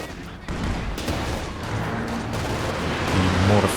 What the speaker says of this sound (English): Here comes the Werfer strike on, DVM's double anti-tank guns